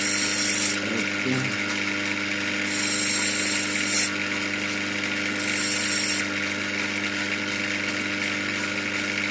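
Natural semi-black opal from Lightning Ridge ground against an aggressive grinding wheel, a steady loud motor whine with layered tonal hum and brief brighter hiss bursts where the stone meets the wheel, continuous throughout.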